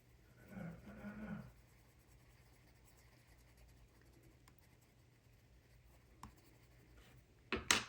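A Prismacolor colored pencil rubs and scratches across paper while blending, with soft strokes in bursts near the start, faint quiet scribbling through the middle, and a few sharper taps and strokes at the end.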